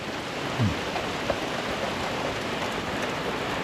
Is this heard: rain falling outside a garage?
yes